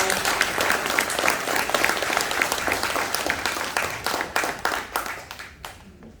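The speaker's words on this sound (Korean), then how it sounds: "중앙회장님을 뜨거운 박수로 환영해 주시기 바랍니다" Warm applause from the audience fills the room at a disability association meeting at a Cheongdo welfare centre, greeting the association's national chairman. The clapping is dense and steady for about five seconds, then thins out and fades.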